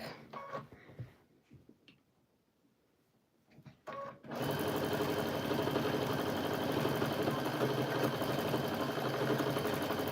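Sewing machine stitching through bulky scraps of quilt batting and fabric, a loud steady motorized whir running continuously after a few quiet seconds of light handling sounds.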